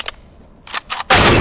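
Gunfire in Counter-Strike: GO: a short sharp shot, a pause, then two more close bursts ending in a loud sustained blast, all near and punchy with no talk over them.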